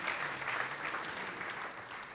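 A church congregation applauds steadily, a dense, even patter of many hands clapping throughout the whole stretch with no pause.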